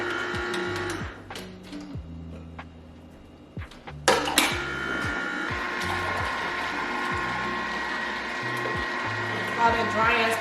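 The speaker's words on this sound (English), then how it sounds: "we're using our beautiful Nama J2 juicer, of course" A Nama J2 slow juicer presses pomelo with a steady mechanical grinding and rhythmic ratcheting clicks, loud and close, running continuously with a sharper surge partway through and soft voices faint beneath.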